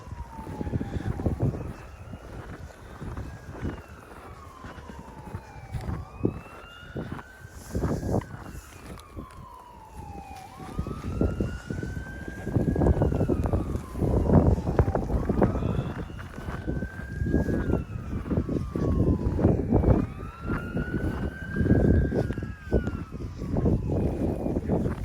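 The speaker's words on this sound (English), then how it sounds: "Do you hear the ambulance?" An ambulance siren wails on a snowy street during a snow storm near a Walmart, its repeated rising and falling tone sweeping several times over a dense bed of traffic and wind noise, fairly close and steady.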